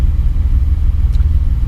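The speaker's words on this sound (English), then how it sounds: "you can get a little bit more exhaust sound" A Porsche 718 Spyder's exhaust gives a close, loud, deep rumble at steady low revs, a short burst with no talk over it.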